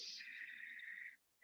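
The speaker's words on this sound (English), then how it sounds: "when you exhale, there's a very audible ha sound" A loud, breathy exhale during yoga breathing, a single sustained hiss lasting about a second, close and alone, then cut off.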